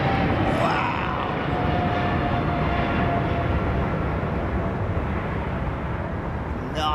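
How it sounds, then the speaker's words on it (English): Airplane making a low departure, a loud, broad engine roar sustained close by for several seconds and fading slightly toward the end. "Nice low departure, man."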